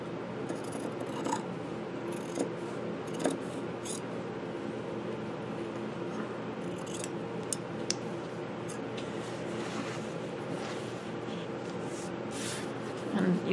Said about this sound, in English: just cut around the cut around the edge. So cut this first piece.